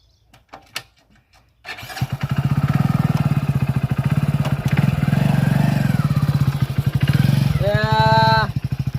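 A motorcycle engine starts after a few faint clicks and settles into a steady, close, throbbing idle, with a voice briefly heard over it near the end.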